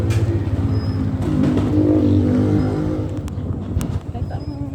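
Motorized tricycles idle and rev in a queue on a street in San Roque, La Paz, Tarlac, a loud, close, rumbling engine drone with rising throttle, mixed with people talking nearby.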